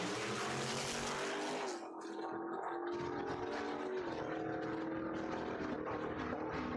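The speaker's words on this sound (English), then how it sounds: "Picking on Jen Wilson. Jenny brought her Camaro out this weekend." Drag race cars, one a Camaro, racing down the quarter mile at a dragway points event; loud, continuous high-revving engine roar with a rising and falling pitch, heard close with no talk.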